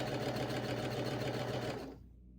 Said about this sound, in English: I like to start the stitch on the inseam so that if any alignment errors occur when going around